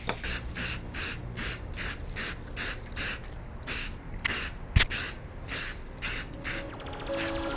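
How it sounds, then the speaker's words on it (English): Repeated bursts of hissing spray in a steady rhythm, close up, each lasting under a second, with brief gaps between them, as water and stain repellent is sprayed onto custom adidas Yeezy 700 Wave Runner sneakers. "we can't spray anything else but Reshoevn8r Water+Stain Repellent"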